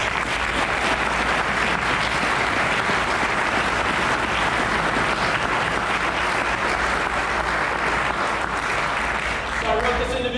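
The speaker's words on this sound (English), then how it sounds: "let's have a round of applause for them." A large audience at a formal gathering gives a sustained round of applause, loud, dense and even for about ten seconds before it starts to thin out at the end.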